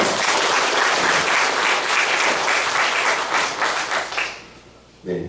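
Audience applause in a church service, a dense sustained burst of many hands clapping that fades out after about four seconds, followed by a brief sound at the end.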